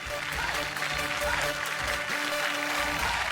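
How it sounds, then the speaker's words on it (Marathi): Loud, dense applause from an audience at a televised women's show event fills the whole stretch, steady and continuous with a faint crowd murmur beneath. "जोरदार टाळ्या होऊन जाऊ देत."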